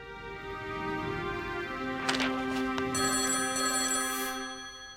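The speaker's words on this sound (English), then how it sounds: "She was disturbed by the sound of her house phone ringing." A house telephone rings inside a Touhou fangame, a steady electronic ringtone with sustained tonal layers and a brighter repeating ring pattern emerging midway, sounding alone at moderate level.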